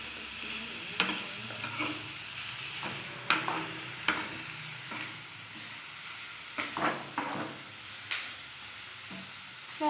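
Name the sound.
stirring onion, garlic and green chili frying in pan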